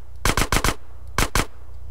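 Gunfire in the video game GTA San Andreas: a rapid burst of four loud, close shots, a short pause, then two more sharp shots.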